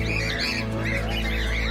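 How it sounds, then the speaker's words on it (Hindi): Assorted parrots in a zoo aviary in Kanpur, with repeated chirping and squawking calls rising and falling over a steady, dense background hum, loud and continuous throughout. "देख सकते हैं आप विभिन्न प्रकार के तोते हैं।"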